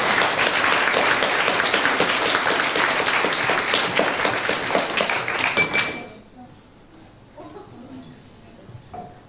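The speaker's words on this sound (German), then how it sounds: "Applaus!" An audience claps loudly and densely at a youth hackathon final presentation for about six seconds, then the applause stops abruptly and a quiet room follows.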